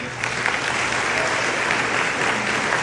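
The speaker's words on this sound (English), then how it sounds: "I'm actually not trying to give applause there." An audience at a Democratic political event in Iowa applauds steadily, a dense, even wash of clapping that continues throughout without pause.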